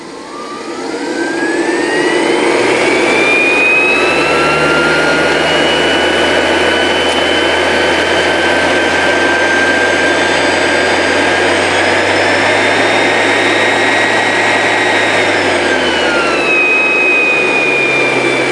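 A three-phase AC motor hooked to a controller spins up to 6,000 RPM, a loud steady whine rising in pitch, holding high for a long stretch, then dropping slightly near the end.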